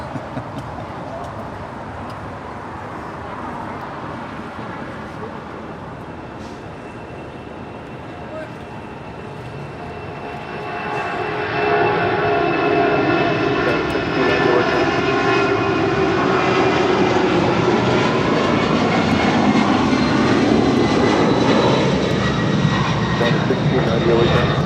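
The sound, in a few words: former All Nippon Airways Boeing 767 at LAX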